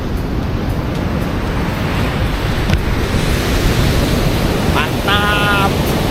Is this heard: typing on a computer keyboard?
no